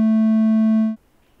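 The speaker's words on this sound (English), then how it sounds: "Here's a triangle wave." A steady synthesized triangle wave tone sounds for about a second, smooth and mellow with soft overtones, then stops abruptly.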